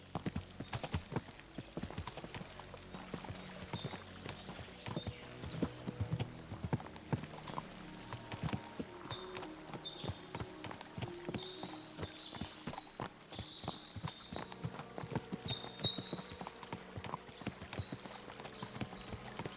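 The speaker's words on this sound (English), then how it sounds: "vamos andando de cavalo mesmo" Horse hooves clip-clopping steadily at a walk in the video game Kingdom Come: Deliverance II, a continuous rhythmic patter of steps with faint ambient background and no talk.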